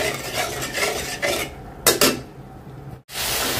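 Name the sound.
spice paste being stirred and fried in a pan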